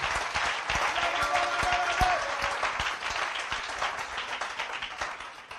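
A church congregation claps together steadily during a sermon, a dense, even stream of applause from a crowd filling the room, with little speech.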